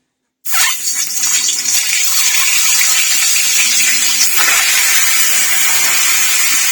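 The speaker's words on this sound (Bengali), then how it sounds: "এবার আমি ডিমটা একটু ভেজে নেবো সামান্য" An egg frying in very hot oil in a home kitchen while making egg shahi korma, a loud steady hiss that bursts on abruptly and holds without letup, with spitting oil.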